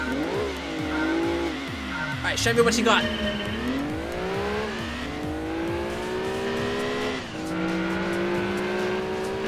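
Racing car engine in Gran Turismo 2 revving up and down through gear changes with tire squeal, loud and continuous while someone talks over it.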